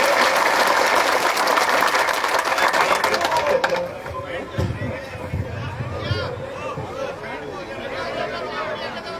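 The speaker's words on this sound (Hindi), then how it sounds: "जोरदार तालियों के साथ तमाम कार्यकर्ता साथी स्वागत करेंगे" Loud, dense clapping from a rally crowd of party workers welcoming former MLA and farmer leader Balwan Poonia in Bhadra, lasting several seconds before fading into crowd chatter and murmuring voices.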